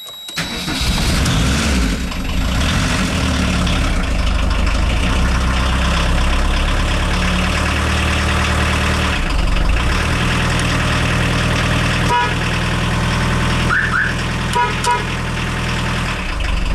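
A VW T3 van's engine runs in neutral, a loud, steady mechanical drone that continues unbroken from start to finish, with a few brief higher squeaks or tones near the end and no talking.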